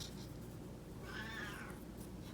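A single drawn-out cat meow rises and falls, faint and somewhat distant, over a low steady background hum indoors.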